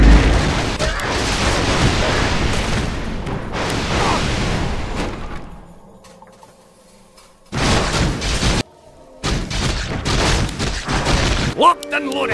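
Dense, loud volleys of gunfire from units firing in Dota 1 (Legends of Dota) come in rapid overlapping bursts. They fade to a quiet stretch midway, then return in choppy bursts separated by brief gaps.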